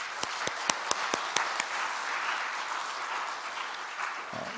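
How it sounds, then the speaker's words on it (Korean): Church congregation at a Friday prayer meeting applauds the teachers, starting with several sharp, distinct nearby claps that blend into a steady wash of applause, with a brief low sound near the end. "우리 한번 박수 한번 보내주실까요?"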